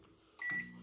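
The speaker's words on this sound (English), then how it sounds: "is to heat these up in the microwave" A microwave oven heating sausage, a quiet hum that steps up abruptly partway through into a steady, louder running drone with a faint electronic tone at the start.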